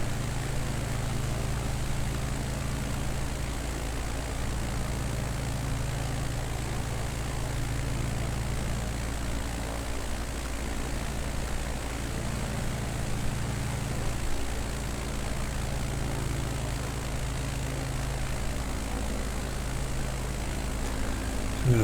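Propeller aircraft engine in Microsoft Flight Simulator 2020, a steady loud droning hum with a constant low tone that holds throughout without pause.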